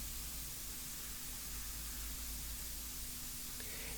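An airbrush sprays India ink onto paper for a portrait painting, giving a faint, steady hiss of air that runs unbroken the whole time with no voices.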